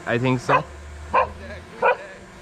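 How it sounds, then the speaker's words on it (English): A dog on an outing in Panighata, North Bengal, gives a few short barks spaced apart, mixed with people talking nearby. "that's a dog who is accompanying us"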